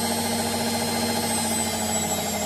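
A Bush WMNB712EW washing machine runs its motor test at 1200 RPM, a steady close-up whirring hum with constant pitch and no change in level throughout, alone without speech.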